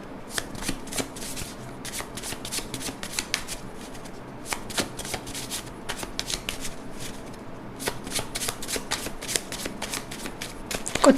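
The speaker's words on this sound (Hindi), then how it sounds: "कुछ कार्ड्स मैं निकालती हूँ।" Tarot cards shuffled by hand in quick repeated riffles and slaps, crisp and close, in fast bursts that continue throughout with brief pauses between rounds.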